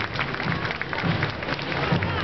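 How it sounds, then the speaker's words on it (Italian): A carnival crowd at Bellaria Igea Marina applauds the Castiglion Fiorentino flag throwers with steady, dense clapping that fills the short stretch evenly, with a faint murmur of voices mixed in. "c'è un applauso per piacere"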